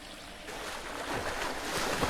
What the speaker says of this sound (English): The water in this game is the loudest I've ever heard in any game.